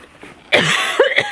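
A single close, harsh cough with a short rasping follow-up, loud and alone with no talking.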